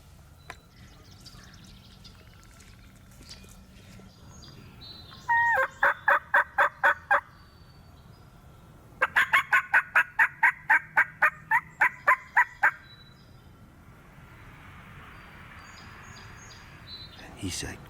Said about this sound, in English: He just gobbled again.